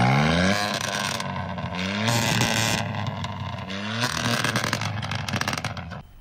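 A vehicle engine revs and drones loudly and continuously, rising and falling in pitch with a rough, throaty exhaust note.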